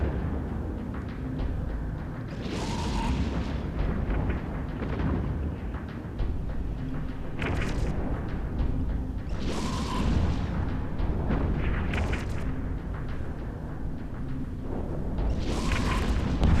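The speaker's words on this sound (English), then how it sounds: "And the battleship has been destroyed." A battleship being blown apart in the space game EVE Echoes, heard as a continuous deep rumbling roar with recurring booming blasts and hissing bursts every few seconds, loud and sustained throughout.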